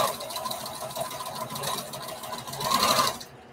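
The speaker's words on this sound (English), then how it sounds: "I'm going to start and backstitch" Sewing machine stitching back and forth over a fabric pocket seam while making a bandana patchwork T-shirt dress, a steady close mechanical whir that speeds up and grows louder near the end before stopping abruptly.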